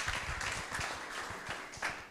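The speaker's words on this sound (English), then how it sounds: "Let's clap, celebrate people" An audience applauding at a talk on turning products into companies, faint, steady scattered clapping lasting about two seconds.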